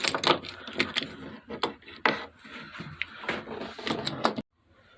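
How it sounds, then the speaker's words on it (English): A metal clamp slides along the aluminum T-track of a workbench, producing a run of close scraping and clacking knocks of uneven loudness that stop abruptly. "just take it, slide it in the T-track, and clamp it down"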